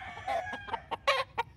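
Gamecock roosters on a farm clucking in quick, short bursts, close and clear, a handful of sharp clucks over a quiet background.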